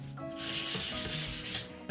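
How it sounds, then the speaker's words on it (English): Sandpaper rubs back and forth along the edges of a wooden frame in quick, even strokes, a close, soft scratching rhythm of about six passes with no talking. "when I'm sanding, I'm not sanding across this area against the grain, I'm just really hitting the edges"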